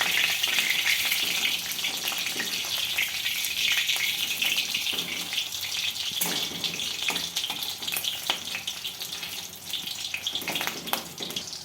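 Fish roe cakes crackle and hiss in hot oil, a dense steady sizzle heard up close with occasional sharper pops and clatters as pieces are turned.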